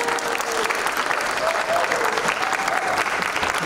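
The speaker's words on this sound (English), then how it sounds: "One more round of applause as they exit the stage." An audience at a school steel drum and percussion winter concert applauds as the beginning steel band leaves the stage, with sustained, evenly dense clapping from a large crowd throughout.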